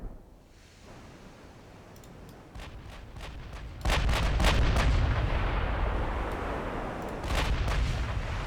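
Naval guns in the Ultimate Admiral Dreadnoughts warship game, including 9-inch guns, boom in a rapid series of heavy shots over a constant roaring sea-and-battle backdrop that swells louder midway.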